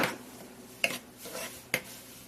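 A spoon scraping and knocking inside a pot while ragda (a pea curry) is stirred for pani puri, giving a few sharp metallic clinks between soft scraping strokes, close and fairly quiet, with no talking.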